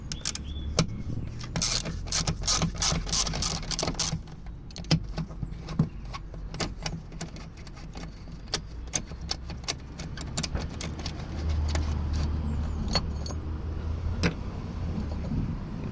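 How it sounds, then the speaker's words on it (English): A 12mm battery hold-down bolt on a Hyundai i10 is undone, giving rapid bursts of sharp metallic ratchet clicks, close up and repeated in quick runs. "we're going to undo the 12mm bolt that's holding it in"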